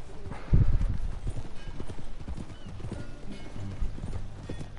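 Horse hooves clip-clopping in Red Dead Redemption 2, a rhythmic run of close hoofbeats opening with a heavy thud, alongside a brief whinny and some game background noise.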